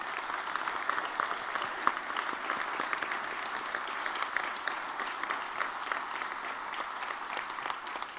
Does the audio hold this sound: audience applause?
yes